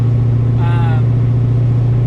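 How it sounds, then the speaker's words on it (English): A 1969 Camaro with a cammed LS swap idles loud and close, its deep, steady rumble continuous, with a faint higher whine passing briefly over it. "Car seems to be running well."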